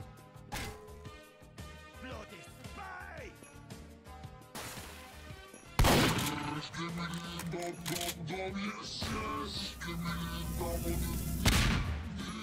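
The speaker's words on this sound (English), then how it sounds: "I love that explosion sound." A sudden loud explosion bursts out midway through a Team Fortress 2 deathrun match, cutting over steady game music with a broad roaring blast that carries on into busy in-game noise.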